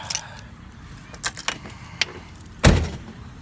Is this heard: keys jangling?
yes